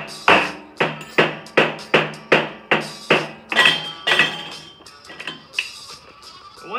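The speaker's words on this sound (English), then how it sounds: "the only way to get that pulley off is to hit it off with a hammer" A hammer strikes a lawnmower's rear pulley to knock it off, about a dozen sharp metallic blows in a steady rhythm, then a few looser, irregular taps at the end.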